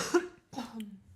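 Two short, hoarse coughs come close to the microphone in quick succession, the second trailing into a faint throat rasp.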